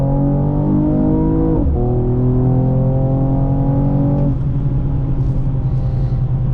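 A 2020 Mercedes-Benz E53 AMG hybrid pulls away hard from a stop, heard from inside the cabin as a loud, rising engine drone that climbs through a gear change and keeps pulling.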